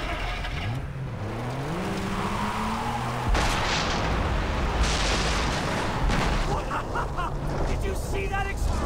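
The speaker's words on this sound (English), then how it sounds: "Did you see that explosion? What? Something exploded." An explosion in the PC shooter Far Cry 3, a sudden heavy boom with a rumbling tail breaking over a car engine revving and game ambience, with someone talking over it.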